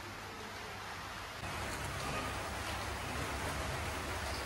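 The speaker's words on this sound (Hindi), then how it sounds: "बाहर बरसात हो रही" Steady rain falls outside a home, a dense even hiss of drops on surfaces that holds constant and grows slightly louder partway through, with no voices over it.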